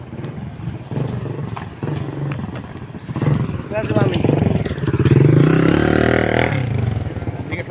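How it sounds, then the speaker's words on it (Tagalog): A motorcycle passes close by on a village road, its engine rising and swelling to a loud peak, while people on a family walk talk over it. "Tabi, may motor."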